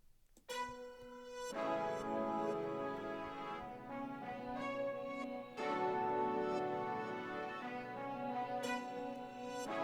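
Layered orchestral horn, brass and a pulsating synth pad blend into sustained, swelling chords, with a sharp attack at the start and new chord entries every few seconds.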